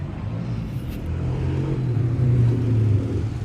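A tractor engine rumbles low and steady close by through a short stretch, a deep idle-like drone with slight rises in level.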